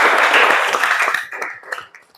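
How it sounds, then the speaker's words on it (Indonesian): A classroom of children claps together at the close of a lesson, a dense burst of hand claps that thins out within about a second and ends with a few scattered, fading claps. "Tepuk tangan buat kita semua dulu."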